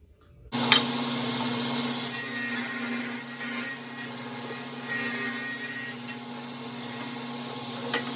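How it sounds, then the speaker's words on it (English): A saw cuts a sheet of plywood in half for building folding dog steps, a steady close grinding rasp with a constant machine hum running for about eight seconds, alone with no talk. "So we'll cut this in half first"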